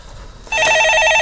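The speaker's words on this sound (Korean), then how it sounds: "자, 전화 받아보겠습니다." A telephone rings loudly and close during a Korean stock-market call-in show, the bright, warbling electronic ring starting abruptly after a quiet moment.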